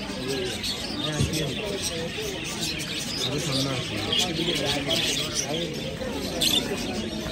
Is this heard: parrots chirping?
yes